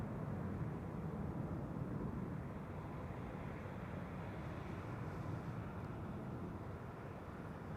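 A Delta Airbus A350 takes off at Amsterdam Schiphol Airport, heard as a steady, broad jet roar that holds evenly throughout, somewhat distant and blended with wind noise.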